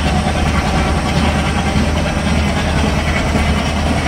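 A WDM3D diesel locomotive hauling a Duronto Express in Train Simulator Classic rumbles steadily with a deep engine drone and a dense rolling wash, loud and unbroken for the whole stretch, with no voices.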